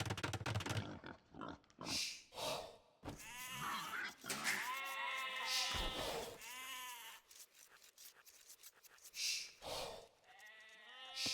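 Repeated wavering sheep bleats come from the strategy game Age of Empires II, a string of loud, close calls with varied pitch interleaved with short clicks and game effects and no talk.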